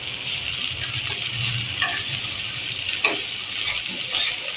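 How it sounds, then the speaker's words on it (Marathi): Rice with ivy gourd roasts in a pan over low heat while a spoon stirs it, giving light scrapes and a few sharp taps over a faint, steady hiss, with no talk. "आपण हे छानपैकी भाजून घेऊया."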